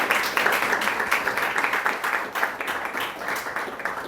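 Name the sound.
audience applause for a professor at a lecture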